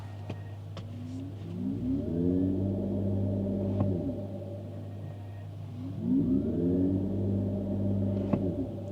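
A Mercedes EQS 450+ electric car plays its artificial drive sound, a steady low synthetic hum overlaid by two sweeping, rising-and-falling tonal swells, each lasting a few seconds, with faint clicks between them and no talk.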